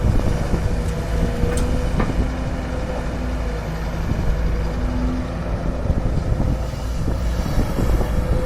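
A Kobelco SK200 excavator with an engine of over 200 horsepower works steadily while digging, its loud continuous engine rumble joined by occasional clanks and knocks from the bucket throughout, with no talk.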